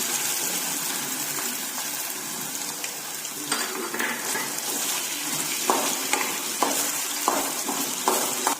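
Pasta sauce with tomato sauce fries in a pan, a continuous bright sizzle with spoon scrapes and taps growing more frequent toward the end.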